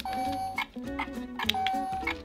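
Rubik's Revolution electronic cube game emitting a rapid series of short pitched beeps and chimes in an irregular rhythm, loud and close, with soft button clicks between tones.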